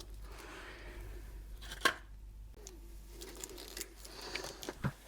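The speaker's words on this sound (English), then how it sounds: "I'm just going to snip the tip probably just about where the resin's meeting the that air bubble" Scissors snip the tip off a plastic bag of resin in one crisp cut near the middle, with faint rustling and light handling noises before and after in a quiet room.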